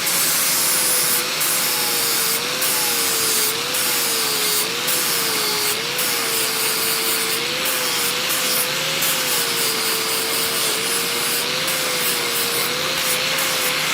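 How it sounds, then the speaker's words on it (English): Angle grinder with a flap disc dressing hot steel in a blacksmith shop, a continuous loud whine and harsh grinding rasp with a slowly wavering pitch throughout. "Just an angle grinder with a flap disc,"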